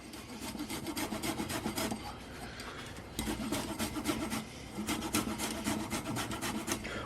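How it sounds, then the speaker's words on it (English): Lemon rind rubbed back and forth on a fine microplane grater, a steady rhythmic rasping scrape repeated in quick close strokes with a short pause midway. "You just rub the lemon on the microplane."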